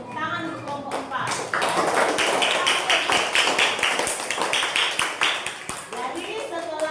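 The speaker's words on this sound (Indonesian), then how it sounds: "tepuk tangan untuk kelompok 4" A classroom of students claps for a group after its presentation, a dense burst of many hands that swells and then fades over several seconds, with children's voices mixed in near the start and end.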